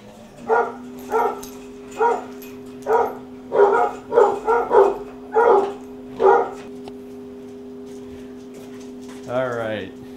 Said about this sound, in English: Our little basset hound buddies were barking at a cat outside